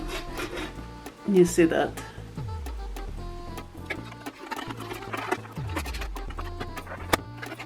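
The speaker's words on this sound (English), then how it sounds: "you take that brush and you go inside and you clean out your machine" A small brush scrubs and rasps around the inside of a Silver Crest SNM 33 C1 sewing machine, with soft scratchy rubbing strokes and light clicks close by, under a person talking.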